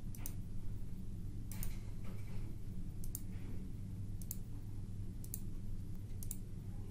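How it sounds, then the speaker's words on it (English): A computer mouse clicks on checkboxes, giving several sharp, faint clicks spaced about a second apart over a constant low background hum, with no talking. "we're going to click on the checkbox next to each of the 9 videos."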